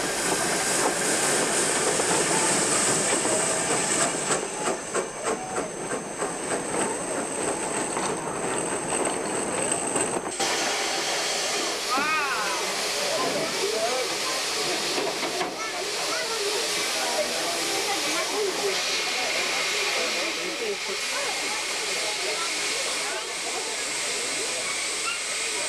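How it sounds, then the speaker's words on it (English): P-class steam locomotive number 753 working into a station loop with a vintage train on a heritage railway, a steady loud hiss and rumble of the engine under continuous sound for the whole stretch, with a sharp change partway through. "Working into Centenary station, the loop, with the railway's P-class locomotive"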